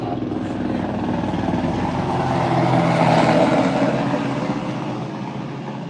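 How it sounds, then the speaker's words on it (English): A helicopter flies overhead with a loud, steady broadband rotor and engine roar that swells toward the middle and eases off, with no voices. "I believe that was a chopper."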